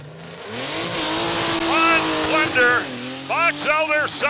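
A drag racing truck with a 292 inline-six engine launches at a drag strip, its steady engine drone rising and revving loudly throughout while an announcer talks over it.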